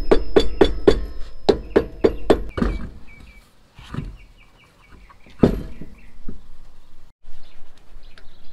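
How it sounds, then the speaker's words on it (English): Rubber mallet tapping on a travel trailer brake drum during a brake and bearing repair: a quick run of about eight evenly spaced, fairly loud thuds, then a few scattered clunks and one more hit amid quieter handling noise. "Oh, rubber mallet again."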